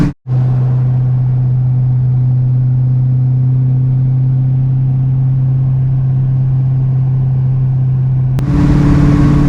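An LS-swapped Dodge Dakota cruises in 4th gear at about 61 mph with a steady, loud, low engine drone. The drone holds evenly throughout, then shifts briefly near the end.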